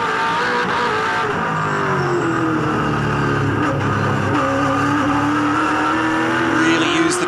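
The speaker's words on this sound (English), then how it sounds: "Torque of the engine climbing the hill there." Onboard a race car at Oran Park, the engine pulls hard uphill in third gear, a loud continuous roar with a slowly climbing pitch and faint tyre and wind noise.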